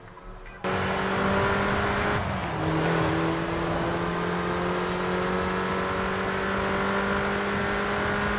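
Car engine from a racing video game driven with a Logitech G25 wheel, starting abruptly after a brief quiet moment, then a steady loud droning drive with a shifting pitch around the two-second mark.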